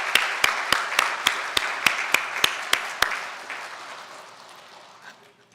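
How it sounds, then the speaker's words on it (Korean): A church congregation welcomes a visitor during a Sunday service at Jeongneung Methodist Church with about a dozen loud, evenly spaced unison claps that stop abruptly, leaving a fading room tail. "우리 박수로 환영합니다"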